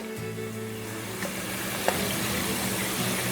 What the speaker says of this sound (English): I'm just going to saute this for no more than 2 minutes.